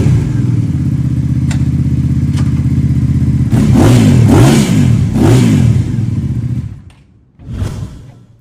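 A V-twin cruiser bobber motorcycle idles with a deep, throbbing rumble, then is revved in several loud, rising blips before the throttle drops off and one last short rev follows; close and prominent.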